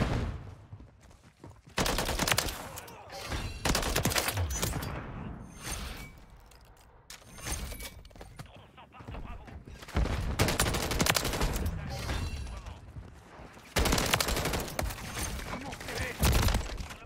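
Rapid automatic gunfire in a shooter video game comes in repeated loud bursts and fusillades, with short pauses between volleys, while a player talks over the action.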